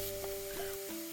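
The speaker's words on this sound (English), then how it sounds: "Place this into a pan over medium heat and begin to break it up." Crumbled country sausage sizzles in a pan over medium heat, a steady close frying hiss with a faint hum beneath it and no talking.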